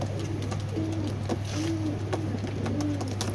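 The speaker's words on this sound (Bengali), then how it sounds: "এইখানে দুইটা নাপ্তা কবুতর আছে, এটা হলো বাবাটা, এটা হলো ছেলে।" Old-breed Pakistani Giribaz high-flyer pigeons coo in soft, repeated rolling calls close by, over a steady low background hum.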